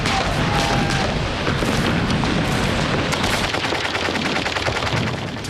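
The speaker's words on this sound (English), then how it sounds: "As the US 1st Infantry Division waded ashore, they were mown down by German machine guns." German machine guns fire at the D-Day beach landing in dense, continuous bursts, with heavy booms mixed into a loud, chaotic battle din.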